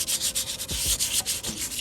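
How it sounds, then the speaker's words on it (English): Gentle hand sanding of joint compound on interior trim from a Mercedes-Benz 300CE W124, a quick rhythmic series of short scratchy rubbing strokes, close and alone. "You just have to sand really gently"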